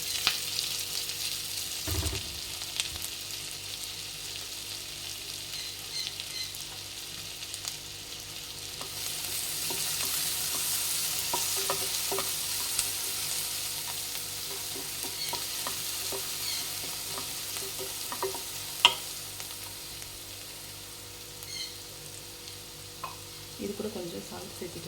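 A large finely chopped onion fries gently in oil for palak paneer, a soft continuous sizzle with a few faint spoon knocks, quiet and steady throughout.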